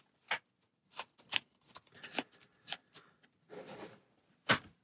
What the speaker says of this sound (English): So we'll shuffle this back in.